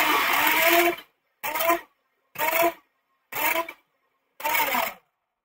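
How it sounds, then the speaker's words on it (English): A black colored pencil is sharpened in five separate whirring bursts of about half a second to a second each, with short silent gaps between them, close and fairly loud. "Okay, I'm going to sharpen this black."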